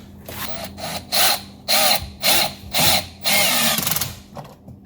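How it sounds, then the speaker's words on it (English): A power drill drives screws back into the driver's side interior door panel of a BMW X, giving about five short, loud whirring bursts close by, the last one longer, with brief pauses between them and no speech. "Now we're gonna reinstall the screws."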